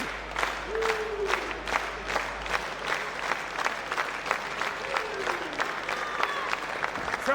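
Wrestling arena crowd at a women's match, steady sustained applause and cheering with scattered claps and shouts throughout, loud and continuous with a faint whistle or call rising above it.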